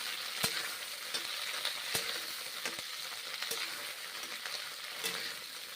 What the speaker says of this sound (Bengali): ঢেঁড়সগুলো প্রথমে ভেজে নেব তারপরে তুলে রেখে দেবো অন্য পাত্রে এইভাবে রান্না করছি ভেজে নিচ্ছি হ্যাঁ ঢেঁড়সগুলো